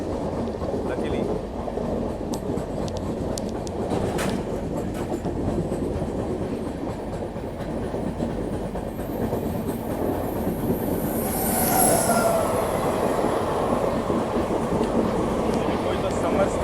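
The Rapti Sagar Express crosses the Tamil Nadu Express at the Peddapalli bypass cabin in Telangana. A continuous heavy rail rumble and clatter of wheels runs the whole way, with a brief squeal near the end and voices in places.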